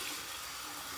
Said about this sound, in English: this is my final rinse from the tap, cold water.